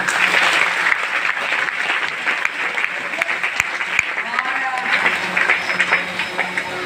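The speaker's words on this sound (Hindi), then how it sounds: "तो आप सभी के लिए भी जोरदार तालियां।" An audience at a DXN business meeting in Danapur gives loud, sustained applause, a dense steady wash of many hands clapping throughout, with voices audible beneath it.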